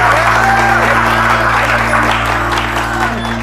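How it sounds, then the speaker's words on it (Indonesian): An audience at a comedy show breaks into loud, close applause and scattered cheering, mixed with a steady low hum and some vocal sounds, continuing throughout. "Tepuk tangan untuk Kemal"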